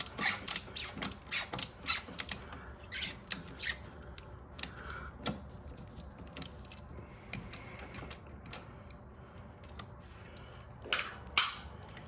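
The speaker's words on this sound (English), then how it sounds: "It's nice to have a ratcheting driver." A ratcheting driver loosens the paddle bolts on a Toro single-stage snow thrower. It makes quick runs of close mechanical clicks in bursts, then a quieter stretch and a final flurry of ratchet ticks.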